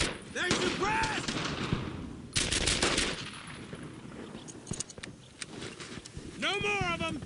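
Rapid bursts of machine-gun and rifle fire in a World War II shooter, Brothers In Arms: Earned In Blood, crackling loud and close in dense volleys with brief pauses, while soldiers shout over the shooting.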